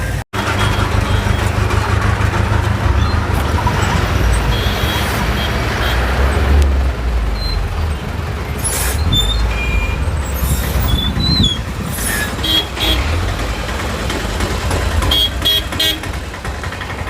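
A jammed road thick with cars, buses, trucks and motorcycles: a continuous loud engine rumble with repeated horn toots and honks scattered throughout.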